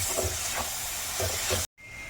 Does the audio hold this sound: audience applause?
no